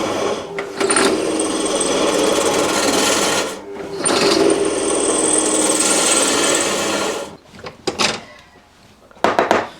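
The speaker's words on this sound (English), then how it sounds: "Behind us, we have a pillar drill." A pillar drill whirs in two long bursts with a brief pause between, grinding into metal, then clunks and rattles as it stops.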